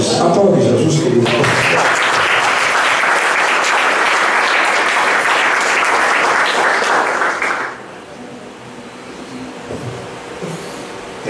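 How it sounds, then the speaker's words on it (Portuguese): A church congregation bursts into loud, sustained applause that fills most of the stretch, then cuts off abruptly and leaves a quieter room tone with faint sounds. "Aplaude Jesus, querido"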